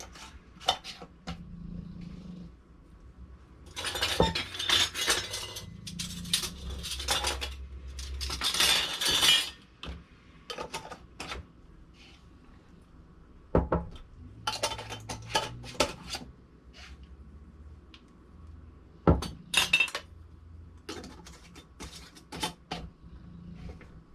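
Glass canning jars clink and knock against one another and a hard surface as they are handled and hand-tightened, in scattered bursts of bright taps and rattles with quiet gaps between.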